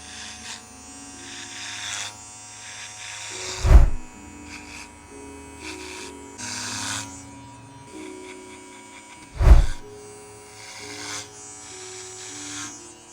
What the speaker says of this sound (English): That was the TPOB Play Clipper and Trimmer.